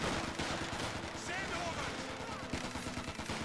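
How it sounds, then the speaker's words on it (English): An MG-34 machine gun in Company of Heroes 2 rattling off rapid bursts amid other gunfire and battle noise, with a voice talking over it. "MG-34 now firing away, hitting this assault section there."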